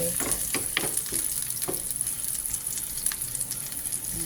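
Onion and garlic sauté together in hot oil, giving a steady close sizzle with a few sharp stirring knocks early on and no voices.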